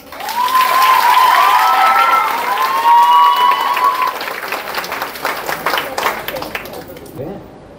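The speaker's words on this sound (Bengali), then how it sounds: "একটা জোরদার তালি" An audience at a lifestyle marketing event in Digha breaks into a loud, full round of applause that holds steady for several seconds before fading, with cheering and voices mixed in.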